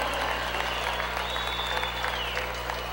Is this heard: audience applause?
yes